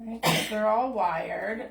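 A sharp human sneeze bursts out loud and close, followed at once by ongoing conversational speech in an indoor crafting setting.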